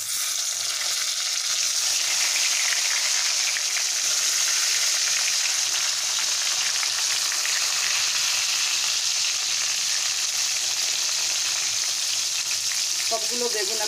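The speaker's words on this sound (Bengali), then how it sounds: "সবগুলো বেগুন আমি একসঙ্গেই দিয়ে দেবো, দিয়ে ভালো করে ভেজে নেব।" Eggplant pieces fry in hot oil left over from cooking hilsa fish, giving a loud, continuous close-up sizzle that holds steady from start to finish, with a few sharper crackles near the end.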